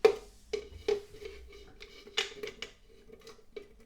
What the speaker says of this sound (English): So I'm going to get the onions in. They've got to be mashed in.